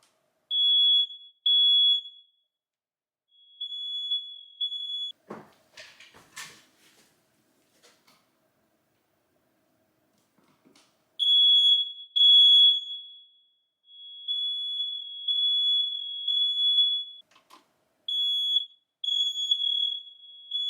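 Interconnected smoke alarms in a house sound off during a test, shrill high-pitched beeps in repeated bursts, broken by a pause filled with a few faint knocks and handling sounds before the beeping resumes.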